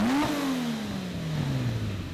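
Lamborghini Miura engine running during carburetor tuning, heard up close as a single rev that climbs briefly and then slowly settles back toward idle.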